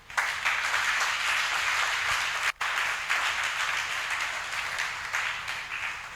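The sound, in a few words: church congregation applauding to acclaim the Lord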